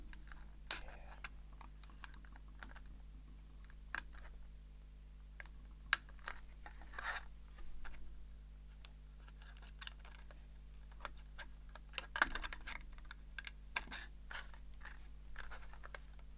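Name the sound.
cutting and shaping a piece of plastic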